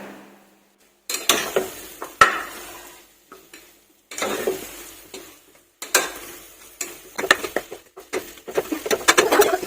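A spoon stirs potato masala with garam masala in a pan, close up, in repeated short scraping and pattering strokes separated by brief pauses, with no speech.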